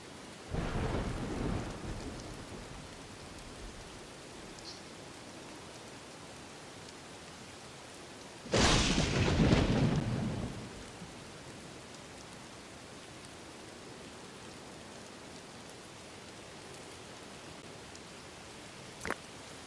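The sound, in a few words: thunderstorm with rain in the game Dawn of Man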